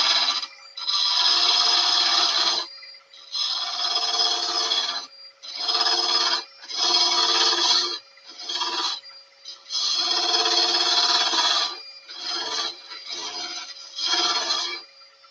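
A hollowing tool cuts into a wooden vase spinning on a lathe, giving loud, broad scraping bursts of a few seconds each, separated by short pauses, with a steady motor hum underneath.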